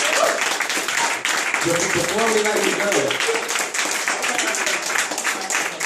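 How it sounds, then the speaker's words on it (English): Scattered audience hand clapping at a networking party fundraiser, fairly brief and mixed under a speaking voice and crowd chatter. "Time for a hand clap now."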